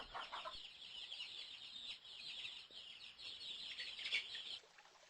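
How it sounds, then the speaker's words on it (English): A chicken clucks and chirps in a continuous stream of high, busy calls, fairly faint and steady, with no talking. "This is a chicken."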